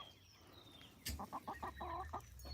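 Young Jubilee chickens cluck in a quick burst of short, bright clucks against a quiet farmyard background, with no one speaking.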